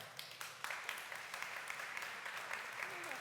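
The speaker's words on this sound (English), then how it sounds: "If you believe the lines are blurring, it's true, please clap now." Conference audience clapping in response to a show-of-hands style vote at a travel industry event, a steady, moderately faint wash of applause with scattered sharper claps throughout.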